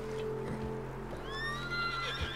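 Horses whinny in Red Dead Redemption 2: a high, wavering neigh rises in the second half over low hoof knocks and a steady background hum, fairly close and clear.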